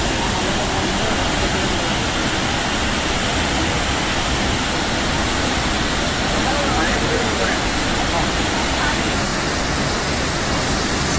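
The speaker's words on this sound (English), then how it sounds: "So this is one more look at the waterfall." The Meenmutty waterfall in a forest crashes into a large pond, making a loud, constant, close roar of rushing water that fills the whole stretch without a break.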